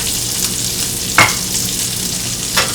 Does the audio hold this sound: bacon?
yes